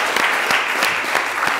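Audience applause for a singer about to perform at a comedy and music stage show, steady dense clapping throughout, loud and close, with no talking.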